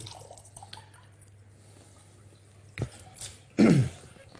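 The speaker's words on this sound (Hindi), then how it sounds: "टूटियों से भर के ग्लास धो रहा हूँ" Tap water briefly splashing into a glass as it is filled and rinsed, a few short wet bursts after a quiet stretch, loudest near the end.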